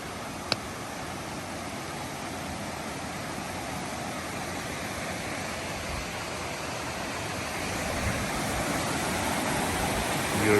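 A creek runs beside a steep hiking trail in the Smoky Mountains, a steady broadband rush of flowing water that stays even and close throughout, with a single faint tap near the start.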